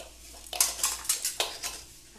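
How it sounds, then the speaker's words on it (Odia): Sharp metallic knocks and scrapes come in an irregular series as a coconut is cut by hand in a home kitchen, close and fairly quiet. "ମୁଁ ବସିକି ନଡ଼ିଆ କାଟୁଛି"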